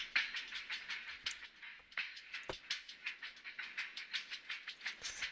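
A rhythmic, textured hi-hat pattern ticks and shuffles in a steady pulse, bright and fairly quiet, with occasional sharper accents and no voices.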